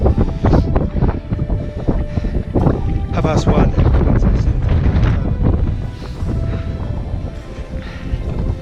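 Gusty wind on a mountain trek near Everest Base Camp buffets the microphone in a low, rumbling roar while a person talks throughout.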